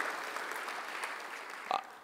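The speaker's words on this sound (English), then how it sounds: "So again, give him another round of applause." Audience applause at an ethics awards event, a steady wash of many hands clapping that holds for the whole stretch at moderate volume, with a brief louder accent near the end.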